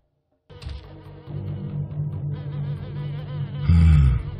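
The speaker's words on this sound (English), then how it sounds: "Sting bees. Those things fire fast." Sting bees from Oddworld Stranger's Wrath hum in a steady, loud insect drone that swells sharply near the end, with no talking over it.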